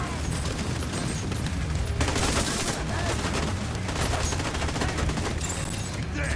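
Minigun fire in The Division 2 video game: a dense, continuous roar of rapid shots at full loudness throughout, with a slightly brighter burst partway through.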